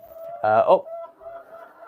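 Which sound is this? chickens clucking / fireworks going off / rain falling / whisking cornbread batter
chickens clucking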